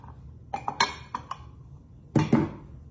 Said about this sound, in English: So 4 eggs going in.